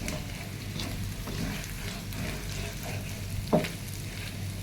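Liver frying in a pan on a lowered flame, a soft steady sizzle close by with faint stirring scrapes and one brief knock.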